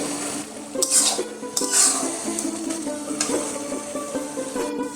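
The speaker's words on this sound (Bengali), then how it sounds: "মাঝে মধ্যে একটু ঢাকাটা তুলে নেড়ে নিতে হবে।" A metal lid is lifted off a pot of ash gourd curry with a couple of bright clinks, then a spatula stirs the thick vegetables in soft, steady scraping strokes over a faint simmer.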